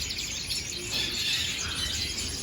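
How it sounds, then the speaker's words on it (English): Dense high-pitched chirping and twittering from many variegated canaries and finches, a steady busy chorus close by with no voices. "Got a bunch of canaries here, variegated canaries."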